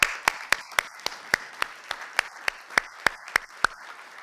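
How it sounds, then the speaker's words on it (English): Applause at a county board of supervisors meeting: about a dozen and a half sharp, evenly spaced claps, close and fairly loud, over a soft hiss from the room. "I think they deserve a round of applause."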